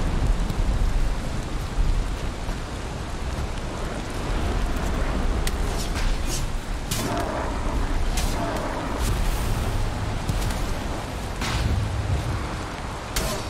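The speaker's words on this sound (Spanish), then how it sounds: "Pedazo de tormenta, tío." Rain from a thunderstorm in the video game Valheim hammers down as a continuous loud hiss, broken by several sharp cracking bursts of thunder in the middle stretch.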